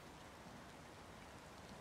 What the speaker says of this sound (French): Écoutez-moi ce son de pluie,